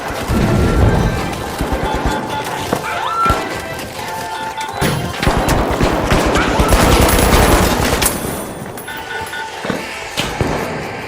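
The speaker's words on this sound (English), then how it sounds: "Throwing two grenades!" Grenade blasts and gunfire in the game The Finals come as loud, close, dense bursts of shots and crashing impacts over around eleven seconds, rising and falling without pause.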